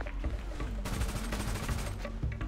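Loud gunfire in GTA 5 roleplay: a sustained volley of rapid shots that grows denser and more intense midway, close and dominant throughout.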